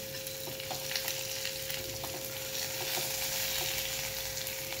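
Onion sizzles and fries in oil with garlic in a pan for a green moong curry, a steady, quiet crackling hiss with occasional stirring scrapes and a faint hum beneath.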